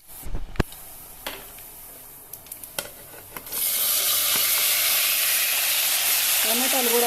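Brinjals frying in a pan for a stuffed brinjal curry, a steady close sizzle and hiss that swells after a few clatters of stirring, with a faint voice near the end.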